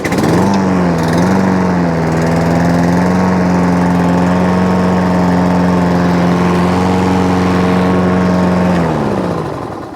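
A Hayter 56 lawn mower engine fires up and runs at a steady, loud, close drone for around nine seconds, then cuts out and winds down to quiet.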